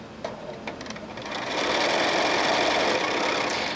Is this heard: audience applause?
no